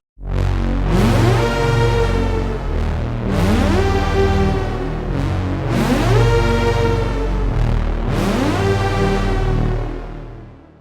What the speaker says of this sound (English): we'll be creating a chord patch that's inspired by the Yamaha CS80 synthesizer